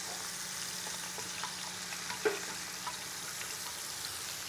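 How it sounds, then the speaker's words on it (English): Onions searing in olive oil in a sauté pan give off a low, even sizzle with a few faint ticks and pops, heard alone at moderate distance. "really want to make sure that those onions are seared nicely, that they don't burn at the edges"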